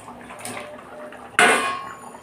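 A metal lid clangs sharply once onto a pot of egg curry, then rings and fades over a soft kitchen background; no one speaks.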